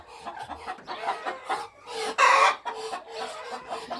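Close-up bantam hen clucking in a rapid, choppy series of short calls, with one louder squawk in the middle, no voices.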